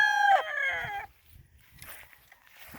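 A gamecock crows once at a gamefowl farm, loud and close, its drawn-out call cut short, followed by faint scattered clucks and farmyard shuffling.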